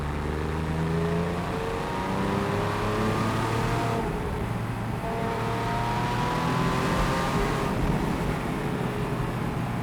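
A Porsche 911 997 GTS engine drones and revs steadily, its pitch climbing and dropping back as it shifts up through gears via paddle shift, loud and continuous with no voices.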